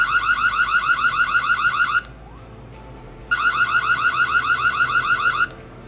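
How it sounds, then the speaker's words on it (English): A Reolink Go PTZ security camera sounds its default alarm siren, a loud, rapidly warbling electronic tone in two bursts of about two seconds each, separated by a short pause. "It has a default alarm alert and customizable verbal alerts."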